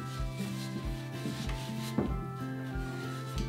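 Dark wax being rubbed off a wooden surface with a cloth, a close, repeated scrubbing and rubbing in uneven strokes, with a few soft knocks of wood.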